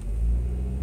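A steady, low engine rumble from inside an aging car while driving, with no clear revving, loud and continuous for under a second.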